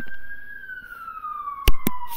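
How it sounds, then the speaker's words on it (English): A siren wails in a long, slowly falling tone outside, fairly close, with a couple of sharp clunks near the end. "Sorry about the sirens."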